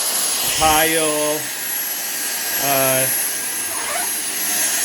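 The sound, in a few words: Dyson V6 cordless vacuum cleaner running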